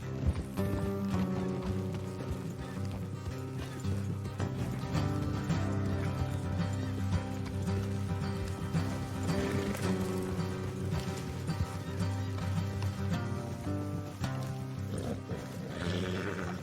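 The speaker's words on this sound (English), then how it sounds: "Let's leave the horses here and go the rest on foot." Horse hooves clop rhythmically in Red Dead Redemption II over a dense, continuous music and ambient backdrop, with occasional animal snorts.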